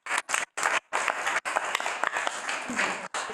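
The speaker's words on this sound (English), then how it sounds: "let's give Jorge a round of applause." An audience at an academic roundtable engagement session applauds in a brief round of clapping that cuts in and out in short bursts, as if gated, and fades after a few seconds.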